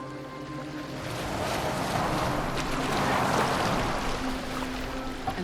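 A boat glides across open water in the video game Assassin's Creed Valhalla, with a steady hull wash, lapping waves and a soft wind, swelling gently in the middle and then easing, with no voices.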